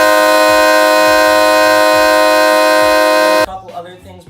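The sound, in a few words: train horn installed on a pickup truck honking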